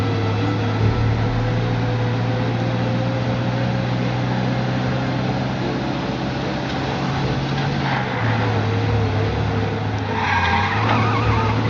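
A car in the Mafia Definitive Edition game races at high speed with a loud, continuous engine drone and long tire skids and squeals, the engine pitch shifting partway through, with no voices.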